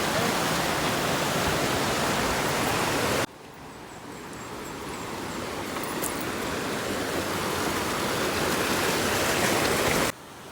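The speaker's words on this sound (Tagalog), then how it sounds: "Nandito na kami sa may pangalawang ilog na to" A river flows steadily with a broad, continuous rush of water. It stays loud and close, with no talk over it.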